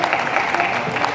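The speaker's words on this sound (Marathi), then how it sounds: "एकदा जोरदार टाळ्या आपल्या सर्वांच्या मी अपेक्षित ठेवतोय" An audience claps together at a devotional abhang music program in Maharashtra, a brief, dense burst of applause filling the space.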